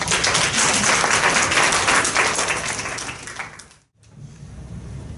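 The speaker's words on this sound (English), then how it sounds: "I'd like to conclude the sixth presentation with a big round of applause" A big round of audience applause closing a student English presentation at a university contest, steady dense clapping that fades and cuts out near the end before faint room noise returns.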